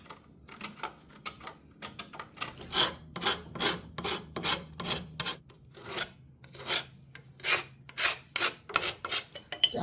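A knife slowly scraping old caked-on finish off a bentwood rocker chair, a close, repeated rasping stroke pattern of short back-and-forth scrapes with a few pauses, no talking.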